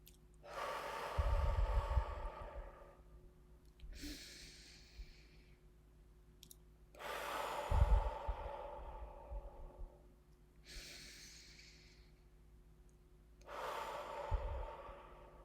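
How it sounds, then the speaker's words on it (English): Slow, paced breathing exercise: a person inhales through the nose and exhales through the lips in alternating breaths, close and quiet, repeating about every three seconds with no talking. "we're breathing in for 3 through our nose and exhaling through our lips for 3"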